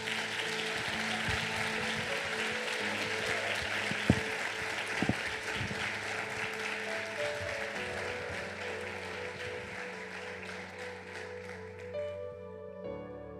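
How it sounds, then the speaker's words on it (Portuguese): A church congregation applauds steadily during a sermon, a dense wash of clapping that holds for most of the stretch, then thins out toward the end while a sustained organ or keyboard tone rings underneath. "Aplauda o nome do Senhor."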